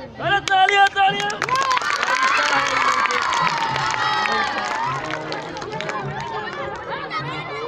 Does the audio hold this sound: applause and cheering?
yes